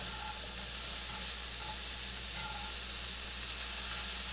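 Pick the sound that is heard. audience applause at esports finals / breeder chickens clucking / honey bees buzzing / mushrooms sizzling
mushrooms sizzling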